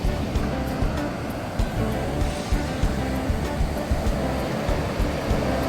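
Ocean waves at Taluak Pariaman beach, a constant rolling wash of surf mixed with gusty wind buffeting, loud and steady throughout.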